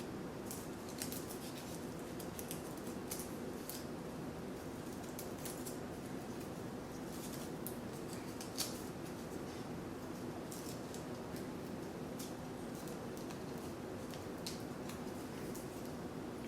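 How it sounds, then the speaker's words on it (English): Scissors snipping shapes out of a folded paper snowflake, a steady run of small crisp cuts, quiet and close, with no talking. "I can fold it back very carefully and continue to cut more shapes out of it"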